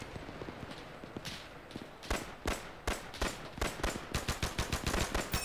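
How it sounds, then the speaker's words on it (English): Gunshots and machine-gun fire in a D-Day video game battle start as sparse distant cracks and build into sharp, close shots, finishing in a fast, rhythmic automatic burst. "these shots are getting close"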